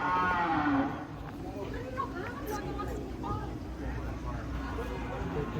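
A giant cow lets out a loud, drawn-out moo at the start, followed by a noisy crowd murmuring and chattering in the background at a cattle contest in Wonosobo.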